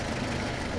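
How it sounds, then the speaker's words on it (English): A cartoon machine engine runs with a dense, steady rumble, loud and continuous for the whole short moment with no voices over it. "Sorry, Ted, I couldn't hear you with the engine on"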